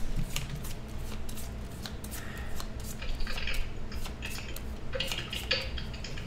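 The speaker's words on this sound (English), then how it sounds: "Josh going to shuffle better this time" Playing cards shuffled repeatedly for a board game, with crisp riffling bursts close by and rapid papery ruffles that recur across the stretch, no talk over them.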